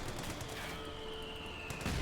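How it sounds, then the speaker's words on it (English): Mortar and other battlefield fire in the World War II strategy game Company of Heroes 2, heard as a dense, continuous wash of distant artillery and gunfire with no voices. "The mortar firing down there."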